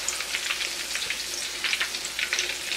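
Sweet potato patties fry in hot oil with a steady, close sizzle and crackle, little pops scattered throughout and no talking.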